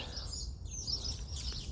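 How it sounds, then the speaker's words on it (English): Birds chirp and squabble outdoors around a residential cul-de-sac, faint and high-pitched over a low background hum. "We got some birds fighting."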